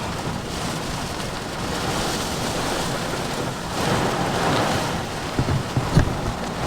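Heavy rain and strong straight-line winds in a severe Florida thunderstorm. The roar is loud and continuous, with gusts that swell midway and brief thumps near the end.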